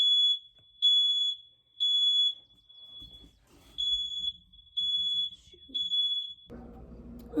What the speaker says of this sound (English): I set off the smoke alarm